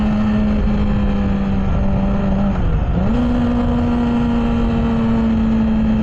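A Yamaha R6 sport motorcycle engine holds a loud, steady high-pitched idle-rev, dipping briefly then climbing back to a sustained buzzing tone, close up and alone.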